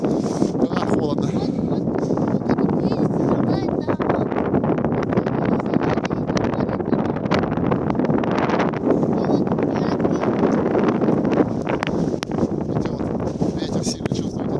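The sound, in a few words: strong winter wind blowing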